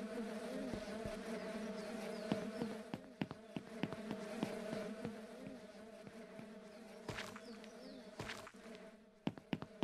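Bees buzz steadily in the farming video game Ranch Simulator, a dense droning hum with wings whirring close by, punctuated by sharp clicks and light footstep-like taps; no talking.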